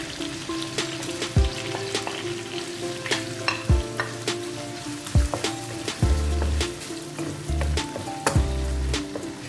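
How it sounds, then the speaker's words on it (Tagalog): Chicken strips sautéing in melted butter for a creamy cheesy penne, with steady close sizzling, occasional stirring scrapes and louder bursts of frying toward the end, no talk. "Ayan, atin mo nang gisahin ulang ating chicken."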